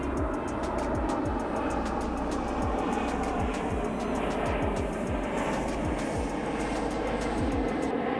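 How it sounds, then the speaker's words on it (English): Powerful aircraft roar overhead at a fishing lake, a loud, sustained engine rumble that swells and holds across the whole stretch, with no talking. "Planes on steroids."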